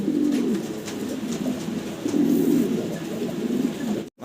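Fancy pigeons coo continuously nearby, low burbling calls swelling and fading in waves, ending with a brief sharp cutoff.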